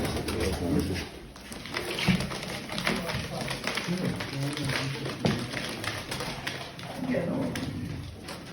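Pigeons coo and flutter inside a loft, producing soft repeated cooing and some wing and foot tapping, with people talking over them nearly throughout.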